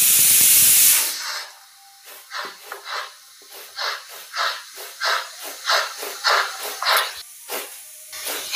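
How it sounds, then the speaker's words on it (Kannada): A pressure cooker whistle vents steam: one long loud hiss, then a steady series of rhythmic puffing hisses, close and clear with no talking. "cooker city ಹೊಡ್ಯಾಕತ್ತ"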